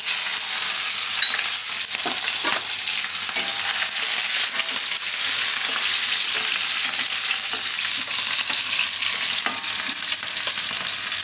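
Garlic and green chillies sizzle steadily in hot oil in a pan over a low gas flame, with occasional stirring clicks and no voices.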